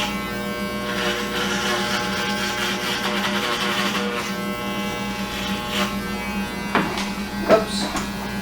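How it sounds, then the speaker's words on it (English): Motor-driven model 76 hair clipper buzzing steadily with a strong harmonic drone during a crew cut and fade haircut, close and continuous, while a person talks over it. "The 76 actually has a little motor inside of it, which makes it really a really strong clipper."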